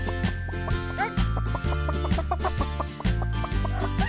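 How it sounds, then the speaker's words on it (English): Farmyard chicken clucking in a quick run of short repeated calls, close and clear, over a rhythmic musical backing with faint jingles. "Chicken."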